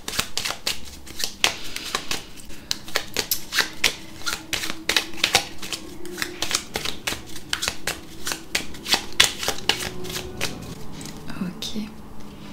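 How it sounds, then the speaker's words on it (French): Tarot cards are shuffled by hand with quick, crisp riffling and flicking in a steady close-up rhythm, with soft breathy sounds in between. "Allez, je remélange un petit peu et ensuite on va tirer"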